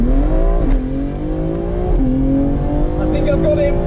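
A BMW X3 M at a drag strip launching hard off the line, its engine note climbing loud and close with steady harmonic pull and brief shift dips, while a voice talks over the roar.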